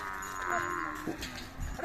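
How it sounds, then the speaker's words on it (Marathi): A Khillar bull or cow at a village fair (yatra) lets out short, low lowing sounds against a murmur of crowd noise and distant voices. "गाय बघा लांबलचक पांढरे शुभ्र गाय आहे"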